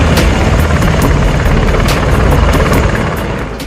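Apache attack helicopter flying nearby, a loud, steady rotor roar with rhythmic blade thumps that holds strong throughout and eases slightly at the end.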